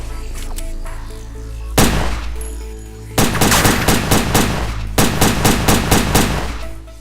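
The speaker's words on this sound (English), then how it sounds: "here's where they start shooting at us" Enemy gunfire in the video game Headhunter, with one sharp burst followed by rapid, loud automatic volleys in quick repeating clusters that fill the last few seconds.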